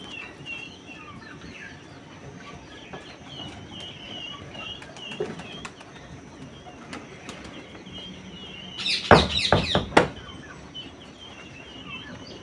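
Fancy pigeons feed nearby, with soft cooing, pecking and light rustles that are then broken by a brief, loud burst of wing flapping, and no speech is heard.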